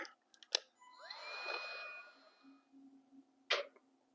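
A heat gun shrinking heat shrink tubing while building a LiFePO4 battery for an off-grid system: a steady, moderately loud blowing hiss with a faint whine for about two seconds, framed by short clicks and handling noises, with no talk.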